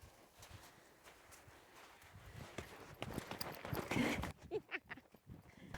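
A horse's hooves clip-clop on the ground as it starts moving during groundwork training, a series of close, irregular thuds that grow louder toward the end.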